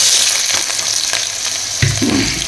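Large onions frying in hot oil with cloves, a loud continuous sizzle and crackle close up, with a sharper burst of hissing near the end and no voices.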